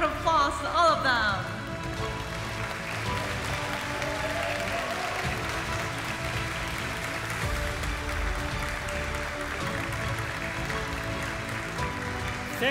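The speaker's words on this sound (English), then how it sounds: "Give a big round of applause to all of them." Audience applause for contestants at a global Chinese beauty pageant final, a faint, steady wash of distant clapping from a large crowd, with music audible underneath throughout.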